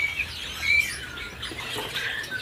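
A caged Papuan myna at a bird market gives faint whistled calls and squawks, set against a soft, steady murmur of market background.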